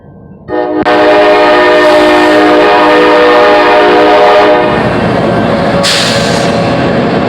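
CSX freight train passing close through Winchester, Virginia, with a loud horn that starts suddenly and holds for several seconds over the rolling roar of the cars, which carries on steadily to the end.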